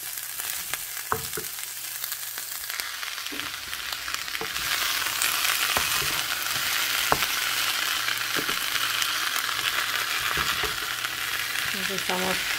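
Vegetables, including tomato, fry in a pot for potato soup with a loud, steady sizzle that swells partway through, punctuated by scraping and clanking of a utensil stirring.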